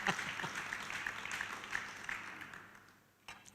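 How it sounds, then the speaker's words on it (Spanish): A church congregation applauds with dense, steady clapping that fades out after about three seconds. "denle un aplauso al Señor porque lo que viene es aburrido"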